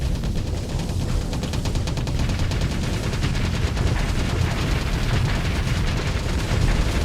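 Ship weapons in the space combat game Starsector fire in dense, sustained rapid bursts, steady and loud throughout with a continuous crackling barrage and low rumble, no talking.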